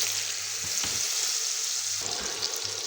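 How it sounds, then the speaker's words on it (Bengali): Boiled jackfruit seeds frying in hot oil, a steady close sizzle with a few brief stirring scrapes and bubbling pops. "এবারে যে বয়েল করা কাঁঠালের বিচিটা ভেজে তুলে নিব"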